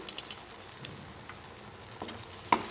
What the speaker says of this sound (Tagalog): ipiprito muna natin ang mga kasagingan na yan